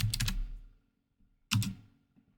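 Two short bursts of clicking keystrokes on a computer keyboard, the first about half a second long and the second after a pause, close and fairly quiet with near silence between them.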